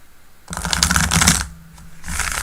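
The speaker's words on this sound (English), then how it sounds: "some very lovely shuffles" Tarot cards being shuffled during a live reading, two close, crisp bursts of riffling and flicking, the first about a second long, a brief pause, then a second shorter flurry.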